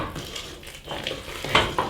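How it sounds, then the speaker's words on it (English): A cooking pot of potatoes rocks on uneven stove grates, giving a few light metallic clinks and scrapes, with one sharper knock near the end against a quiet kitchen background. "There's a bit of noise here from the stove."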